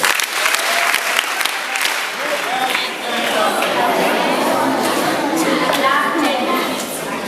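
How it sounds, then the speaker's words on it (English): Close, loud clapping from an audience at a school peace speech, a dense continuous patter with children's chatter and crowd noise underneath. "Can we clap for him?"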